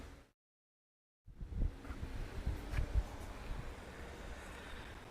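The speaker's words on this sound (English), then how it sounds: "It is so windy." Strong, gusty wind roars and buffets across the microphone outdoors during a Mavic Pro drone flight, starting abruptly after a brief silence and continuing loud and rough throughout.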